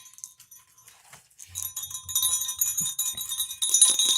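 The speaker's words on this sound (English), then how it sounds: "Can you hear the bell?" A small jingling bell, bright metallic ringing that starts faint and grows louder and fuller, near and shaking in bursts with no speech over it.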